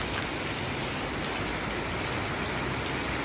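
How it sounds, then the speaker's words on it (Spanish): Heavy rain pours down steadily and close by, a loud, unbroken wash of drops hitting surfaces with no voices over it. "te llega la lluvia"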